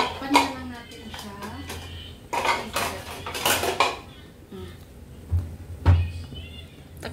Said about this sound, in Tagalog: Tatakpan nga lang natin siya.